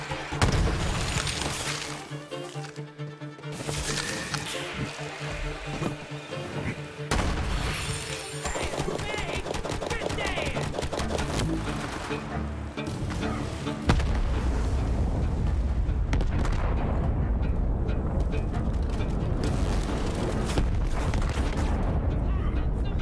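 Explosions and gunfire in the video game Borderlands 3 burst loudly through a dense, chaotic battle, with a continuous roar building in the second half.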